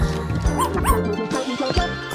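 Puppy barking and yipping indoors in a few short, high bursts with a soft whimper between them, close and fairly loud.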